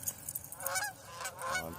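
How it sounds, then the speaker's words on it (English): Geese flying close overhead by a creek, honking loudly in a quick overlapping burst of calls. "These geese were trying to get me."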